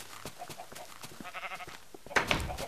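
Sheep in the Minecraft video game, with a realistic-sounding texture pack, bleat in a few short, quiet calls, followed by a brief louder burst near the end, with no talking.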